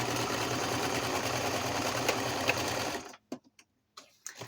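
A sewing machine stitches through paper ephemera with a steady, close, continuous whir for about three seconds, then stops, leaving a few soft handling clicks.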